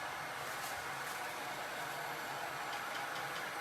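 A new electric blower dries a glass jar coated in Mod Podge and chalk, giving a steady, loud whooshing roar of air that holds evenly from start to finish with no talking.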